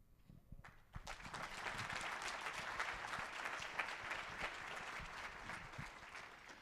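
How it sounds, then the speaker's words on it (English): An audience at a Diversity Summit 2016 panel with Chancellor DiStefano applauds the speakers, a full round of clapping that starts abruptly after a brief quiet moment and stays dense and even, fairly distant in a large room. "Thank you for that nice round of applause for our speakers"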